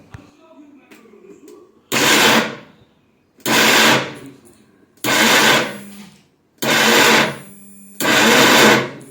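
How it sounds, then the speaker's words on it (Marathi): A kitchen mixer grinder whirs in five short, loud, evenly spaced pulses with brief silences between them as it grinds soaked ingredients for raw mango dal. "आता हे तीनही जिन्नस आपल्याला मिक्सरवर बारीक करून घ्यायचे"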